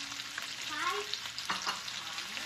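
Luncheon meat sizzling and crackling in a hot pan, a steady spattering hiss with occasional scrapes, fairly quiet and close.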